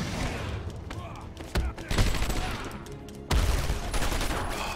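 Enemy gunfire in Batman Arkham Asylum crackles as a few sharp bursts and thuds over a busy game background, with a voice talking through the action.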